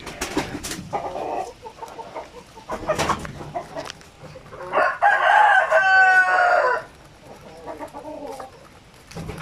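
Black chickens on a Filipino farm, with a rooster crowing loudly once near the middle amid scattered clucks and other farmyard bird calls, close by.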